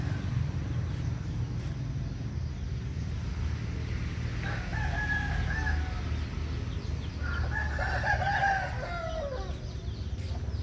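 A fighting rooster crows twice at a moderate distance, each call a drawn-out cock-a-doodle-doo, over a low steady background rumble outdoors.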